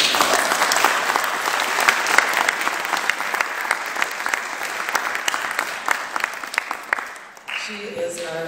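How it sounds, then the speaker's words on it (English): An audience at a recital applauds steadily, a dense wash of clapping that carries on for about seven seconds before thinning out near the end. "Let's give her a round of applause."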